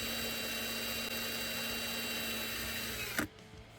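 A power drill whines steadily at high speed, drilling into a metal post, grinding continuously for about three seconds before abruptly stopping, leaving a quiet hum.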